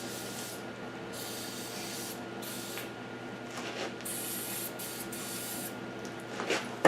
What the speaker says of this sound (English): Spray everything down.